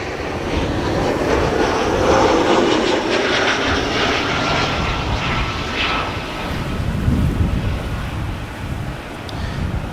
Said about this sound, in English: Another ITA Air is also coming this way.